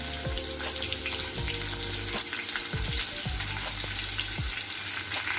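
Onion, bay leaf, stone flower and spices sizzle steadily in hot oil for misal, a continuous close frying crackle with occasional stirring scrapes and no talking.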